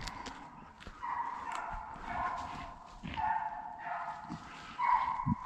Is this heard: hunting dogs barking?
yes